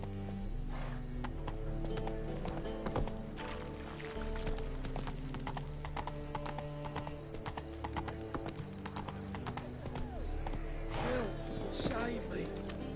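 Roach the horse galloping in The Witcher 3, hooves clip-clopping in a steady rhythm over a dense layer of game music, with a brief whinny near the end.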